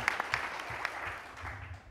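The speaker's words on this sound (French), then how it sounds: "on peut l'applaudir" An audience at a round-table debate gives brief, moderate applause, a soft patter of claps in a hall with a few sharper individual claps, fading out within two seconds.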